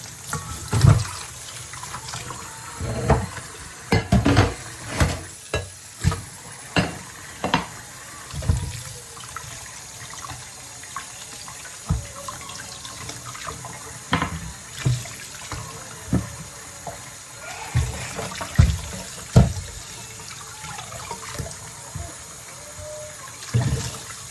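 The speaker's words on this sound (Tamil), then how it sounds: "இப்போ மரக்கறி எல்லாம் கழுவணும்" Tap water splashes over vegetables being washed in a kitchen, with a close stream broken by irregular bursts of splashing and sloshing.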